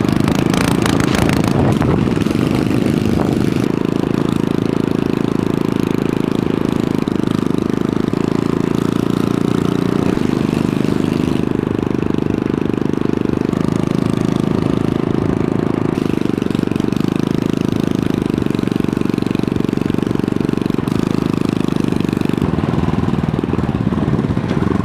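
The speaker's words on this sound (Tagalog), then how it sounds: "Parang helicopter po itong motor namin guys," A motorcycle engine runs loud and steady at close range for the whole stretch, with a heavy, rhythmic low chug that is likened to a helicopter. No one speaks over it.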